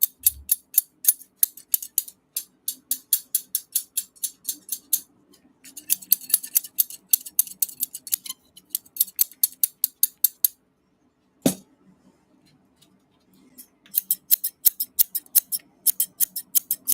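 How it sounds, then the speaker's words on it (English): A favorite pair of scissors snips rapidly and repeatedly in close, crisp bursts of metallic clicks, pausing briefly between runs, with no talking over them. "This is my favorite pair of scissors that I have."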